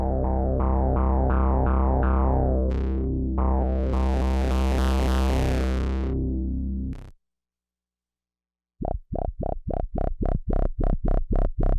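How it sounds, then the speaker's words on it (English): Novation Bass Station synthesizer with gentle pre-filter distortion: a sustained rhythmic bass line with a sweeping brighter passage, a sudden cutoff into silence, then a run of short plucked notes, loud and alone. "the distortion pre-filter is very gentle and a little bit more subtle"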